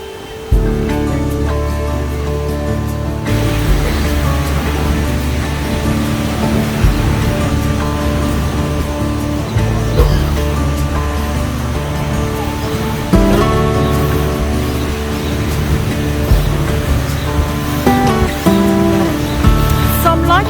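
Ocean waves wash steadily onto the beach at Ao Nang in Krabi, Thailand, as a continuous loud rush of surf with no breaks.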